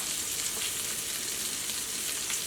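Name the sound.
sardine frying in masala in a pan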